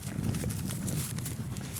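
Horses run along a trail, their hooves beating a quick, rhythmic clip-clop of fairly close footfalls over a low rumble, with no one speaking.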